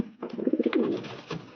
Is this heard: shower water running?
no